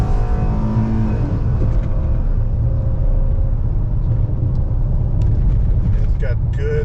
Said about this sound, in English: it's got good, strong acceleration.